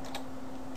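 Brief, faint keystrokes on a computer keyboard, a quick tap or two under a steady hum.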